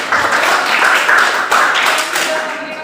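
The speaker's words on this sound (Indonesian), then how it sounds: "Tepuk tangan buat Nopi ya" A class applauding a student in a chemistry classroom, a short burst of dense, loud clapping from many hands, close and continuous, with faint voices mixed in.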